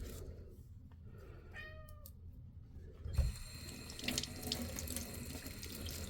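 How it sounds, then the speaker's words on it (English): Paint brushes are rinsed under a tap that turns on partway through, giving a steady rush of running water; before it starts, a cat meows several times in a quiet room. "So I'll rinse it in a second."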